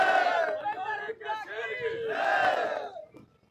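A large crowd at a political nomination rally in Haryana cheers and shouts loudly and continuously in overlapping excited voices, swelling and dipping before fading at the end.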